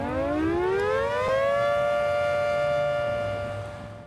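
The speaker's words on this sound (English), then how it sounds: "How old is the siren that we're looking at? That was put in about 1973." An old civil defense siren, installed around 1973 in Hennessy, Oklahoma, winds up from low to a loud sustained wail that holds steady before starting to fade, with no voices.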